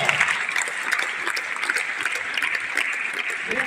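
Spectators at a sub-junior kabaddi district selection event at a school in Nandyal clap for the association president, a moderately loud, fairly steady patter of many hands in an outdoor-sounding space, with no talk over it.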